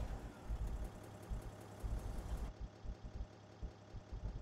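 A 1965 Mini Cooper S engine idling in Farming Simulator 19, a low steady rumble with a slightly uneven pulsing beat, fairly quiet and heard alone.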